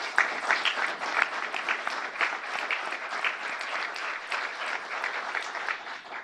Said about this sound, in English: please stand at this time and also accept this round of applause